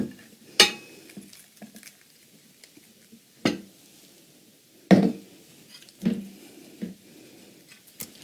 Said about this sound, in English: The first thing I usually like to do is to start with my marinara sauce at the bottom of the pan.